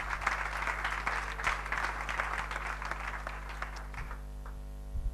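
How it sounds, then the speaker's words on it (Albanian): A church congregation claps together in a burst of dense applause that fades out near the end, with a low hum underneath. "A mund të kem një duartrokitje Zotit fort?"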